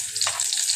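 Chopped onions hit hot oil in a pot as the base for a kima minced-meat dish, giving a brief, loud, steady sizzle with a sharper burst partway through and no voices.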